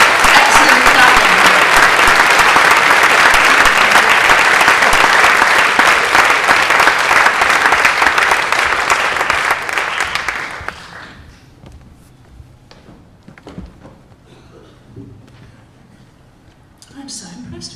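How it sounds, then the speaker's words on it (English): Loud, sustained applause from a folk concert audience, steady for about ten seconds before fading to a few scattered claps and quiet. "That was lovely clapping."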